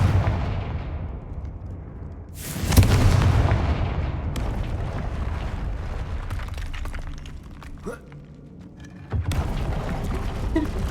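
Confringo explosion spells in a wizard video game go off as booming blasts, one loud burst with a roaring tail followed by another sharp blast, over a rumbling background of game effects.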